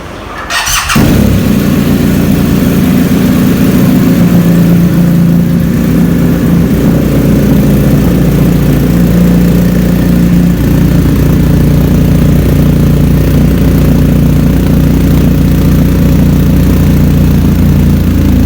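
A superbike engine cranks and fires, then settles into a loud, steady exhaust drone with a rough idle that holds close and continuous throughout, no talk.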